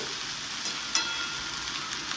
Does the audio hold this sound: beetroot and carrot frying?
yes